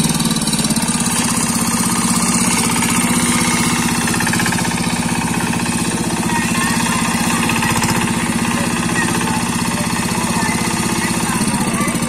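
A tractor engine runs steadily at idle, a loud, close, continuous rumble with a rapid chugging knock and no pauses.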